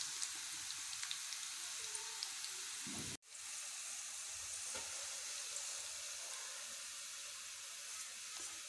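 Hot desi ghee tadka sizzling as it is added to mustard greens saag: a steady, bright crackling hiss that cuts out briefly, then resumes evenly.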